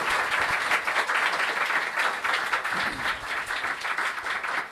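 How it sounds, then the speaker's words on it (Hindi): A church congregation in Harappa gives loud, sustained applause for the children who led worship during a live Sunday service, steady clapping filling the room for several seconds. "तो मैं चाहूंगा कि इन बच्चों के लिए जो आज इबादत को लीड करें हम जोरदार तालियां"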